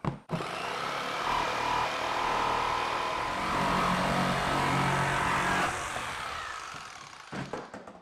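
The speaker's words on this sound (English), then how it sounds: "Skill saw, we're gonna cut this out." A circular saw whines continuously as it cuts through a plastic lid, loud and close, for several seconds before spinning down, followed by a few faint knocks.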